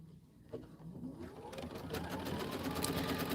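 An embroidery sewing machine stitches a tack-down line, a quiet start giving way at about 1.5 seconds to a steady, rapid mechanical whir that holds at moderate level to the end.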